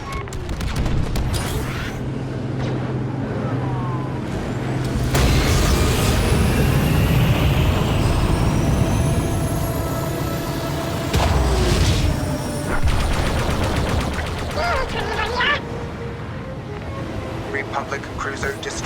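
Explosions and blaster fire in Star Wars Battlefront II during a space battle over a water-covered planet, with loud rolling booms and roaring ship engines under a game announcer's voice.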